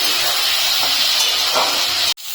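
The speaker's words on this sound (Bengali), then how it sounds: "এখন চিংড়ি মাছটা আমি হালকা একটু ভেজে নেব" Prawns frying lightly in hot oil in a pan give a loud, steady, close sizzle with a constant hiss throughout, cut off abruptly near the end.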